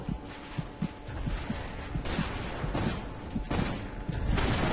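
Gunfire in the video game Inversion, a run of sharp shots and thumps in irregular bursts over a busy mechanical backdrop, with heavier impacts now and then.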